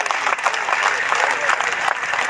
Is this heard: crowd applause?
yes